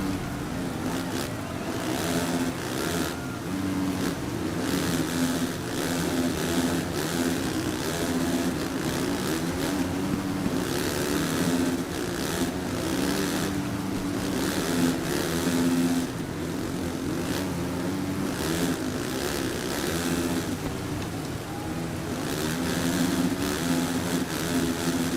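Motocross bikes racing in the video game MXGP 3, a loud, continuous, buzzing two-stroke engine drone with rising and falling revs and overlapping bikes throughout.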